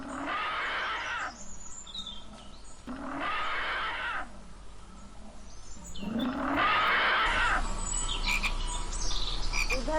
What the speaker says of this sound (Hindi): सभी मेंढक एक बहुत बड़े गड्ढे के पास जाकर टरटराने लगते हैं।